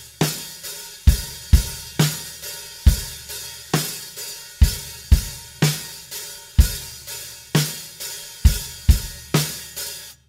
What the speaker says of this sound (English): we've got our basic straight eighth pattern, an eight beat, with our two basses on the three and,